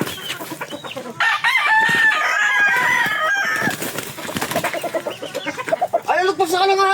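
A rooster crows loudly and close by in a long drawn-out cock-a-doodle-doo, followed by clucking fowl and excited shouting voices.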